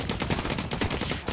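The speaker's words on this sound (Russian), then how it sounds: "По мне выстрелы?" Rapid automatic gunfire rattles continuously in The Cycle: Frontier, a dense burst of close, loud shots with no pauses across the whole moment.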